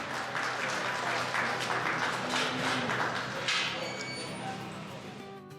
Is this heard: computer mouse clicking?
no